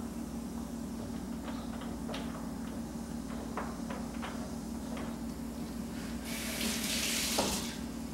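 Tap water runs steadily into a sink to rinse metal electrode plates from a DIY hydrogen cell, a continuous close splashing flow with light clinks of the plates, swelling louder near the end.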